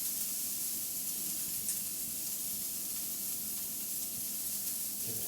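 Brussels sprouts sautéing in a pan over high heat, with a steady, bright sizzle and hiss that keeps going evenly and alone, with no voices.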